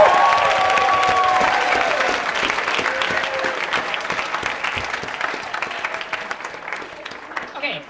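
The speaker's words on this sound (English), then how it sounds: "Let's give a round of applause." Applause from an improv comedy audience, a dense steady clatter of clapping that fills the room, then thins and fades a little toward the end.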